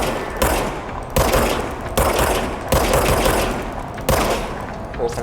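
Rapid bursts of automatic gunfire from the living gun in the video game Control, loud and close, coming in several repeated volleys separated by brief gaps.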